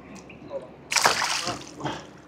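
A fish, a small predatory catch, is let go back into the water from a boat during a jig fishing trip, landing with a sudden sloshing splash followed by brief watery churning, close by.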